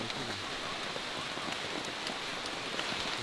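Rain patters steadily on leaves and ground in a Florida rainforest, a dense close hiss with scattered sharper drops throughout and no talking.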